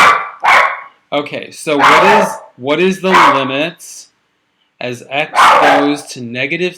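A pet dog barks in a home while a person talks, with sharp bursts repeating between spoken phrases and sitting close and loud alongside the voice.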